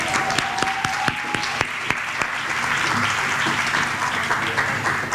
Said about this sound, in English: can we please get another huge round of applause for all of our award recipients?